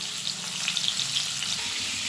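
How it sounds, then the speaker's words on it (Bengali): Snakehead fish fry in hot mustard oil in a kadai, giving a steady, close sizzle with small crackles and pops throughout and no talking. "কড়াইয়ে সর্ষের তেল গরম করে নিয়েছি। মাছগুলো এবার ভেজে নেব।"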